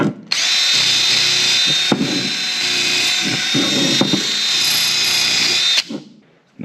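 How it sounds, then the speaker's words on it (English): Wire wheel on a power tool scrubbing the surface of a brake caliper on a 2010–2016 Hyundai Genesis Coupe 2.0L, a loud, steady close-up whir running nearly the whole time with a few brief dips before it winds down. "if it's dirty, use a wire wheel to clean it off more"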